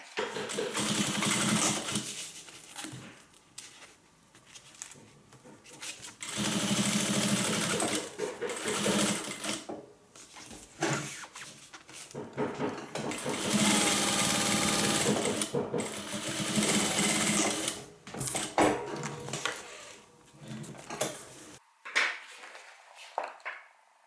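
A sewing machine runs straight down a 1/4 inch seam on fabric for a hippie van project, a loud rapid whirring in several long bursts separated by brief pauses, ending in quiet.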